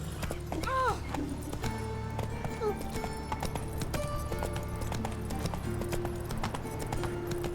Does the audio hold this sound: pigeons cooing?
no